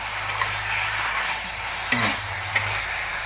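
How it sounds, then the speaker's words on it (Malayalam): Chicken curry is stirred in a pan over a low, steady sizzle, with a few sharp scraping clicks of the spoon against the pan standing out near the end. "നന്നായിട്ടൊന്ന് ഇളക്കി കൊടുത്തു മിക്സ് ചെയ്ത് എല്ലായിടത്തും ഒരുപോലെ വരട്ടെ"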